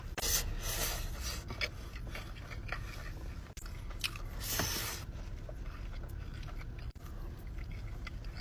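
Soft, close chewing of a mixed bite of Arabic food with white sauce, with quiet wet crunching and munching throughout and no talk.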